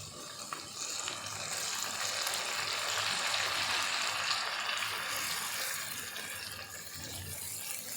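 Ginger and garlic paste juice hits hot oil in a pan while Peshawari namkeen chicken karahi is being cooked, setting off a loud, continuous close sizzle that swells and then slowly eases.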